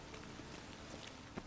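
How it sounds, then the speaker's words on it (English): Steady rain pattering across a surface in The Witcher 3: Wild Hunt, a constant broadband hiss with a few brief louder drops near the end. "And it's raining again."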